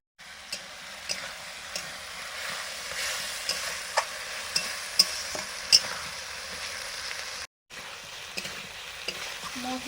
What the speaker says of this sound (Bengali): মশলাটা কষে নিচ্ছে আলুর সঙ্গে।